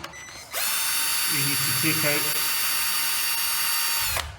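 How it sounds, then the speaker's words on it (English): A normal power drill removing the crankcase bolts on a Honda Zoomer scooter during a clutch replacement, whining loudly and steadily for several seconds before cutting off, with someone speaking briefly over it. "Now to do this I just use a normal drill."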